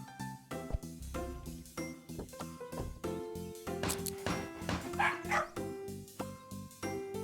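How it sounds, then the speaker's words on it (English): A dog barks and yips repeatedly in quick, excited bursts, close and fairly loud, over background tones, with a few sharp knocks before the barking starts. "Hammer noise and then dog barking."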